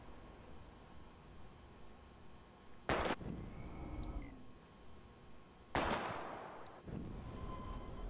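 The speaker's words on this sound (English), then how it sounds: "We're gonna shoot all these bottles without wasting a single bullet." Two sharp, loud gunshots at bottles in Life is Strange, spaced a few seconds apart, each a sudden crack with a brief decaying tail over quiet game ambience.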